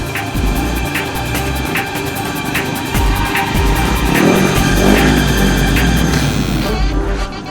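A car engine revs hard and accelerates, a loud close roar that swells and climbs in pitch over several seconds, with a rhythmic ticking clatter running through it.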